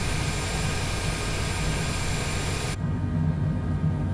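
Cessna airplane engine taxiing after landing at Mammoth Yosemite airport, a steady loud droning roar with broadband noise that continues throughout, its high hiss dropping away partway through while the low rumble carries on.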